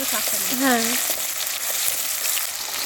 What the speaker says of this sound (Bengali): টমেটো কুচি দিয়ে দিল টমেটো টমেটোটা একটুখানি নাড়াচাড়া করে